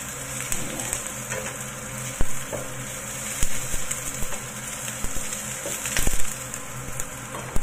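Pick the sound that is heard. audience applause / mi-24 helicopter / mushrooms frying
mushrooms frying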